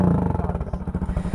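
Honda motorcycle with a straight-through exhaust idles close by, a muffled, steady low pulsing throb with slight uneven beats, heard alone.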